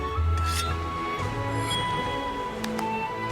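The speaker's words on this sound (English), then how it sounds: "for some sharpening." Sword being sharpened on a whetstone in the Monster Hunter Rise video game, a steady rubbing rasp with light metallic clinks, continuous over a low game-music bed.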